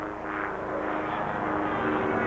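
A steady droning propeller airplane engine from a low-horsepower aerobatic plane at an air show, moderately distant, with a smooth continuous hum that swells slightly.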